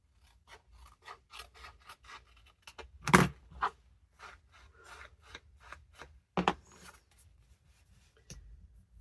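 Scissors trim a strip of paper belly band for a handmade scrap-collage book, giving a series of close, crisp snips and rustling paper rubs, with two louder sharp cuts standing out.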